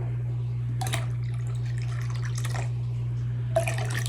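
Pineapple juice poured into a measuring cup while preparing chicken yakitori sauce, heard as a few short bursts of trickling liquid over a steady low electrical hum, close by and with no speech.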